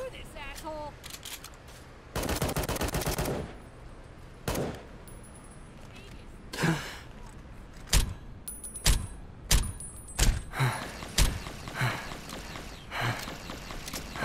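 Gunfire in The Frontier video game: a rapid burst of shots, then single sharp reports at irregular intervals, fairly loud, with someone speaking between some of them.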